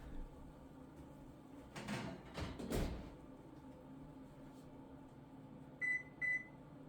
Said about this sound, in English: The oven timer just went off, so it's time to take the scones out.